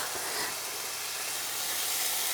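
Duck skin sizzles in a dry, very hot frying pan, a broad steady hiss of frying fat that runs continuously and fairly loud with no talk over it.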